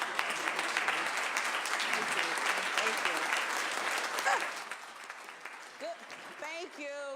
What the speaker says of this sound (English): please stand up and applaud our keynote speaker,